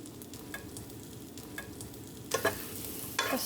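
Garlic fries in butter on a high flame, a steady close sizzle punctuated by a few sharp scraping stirs toward the end, with no one talking.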